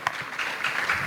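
A seated summit audience in Ghana applauds steadily, a dense, even wash of many hands clapping at once with no pauses, fairly close and sustained throughout.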